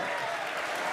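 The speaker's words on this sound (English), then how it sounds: "you can hear the crowd" A crowd at an esports playoff event applauds and cheers in a dense, steady wash of clapping, loud and continuous for the whole moment.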